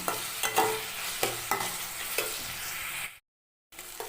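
Onions sautéing in a pan for a cauliflower gravy: close, steady sizzling with regular spoon scrapes about every half second, then a brief full silence before the frying sound returns.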